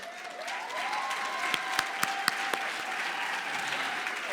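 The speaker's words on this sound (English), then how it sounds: "give a round of applause for these amazing people" A conference audience claps steadily for several seconds, dense and even applause with a few sharper claps standing out.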